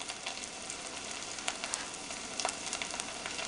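Food sizzling in a CERAMAX nonstick electric cooker pot, a soft, continuous crackling hiss with scattered faint pops, heard up close.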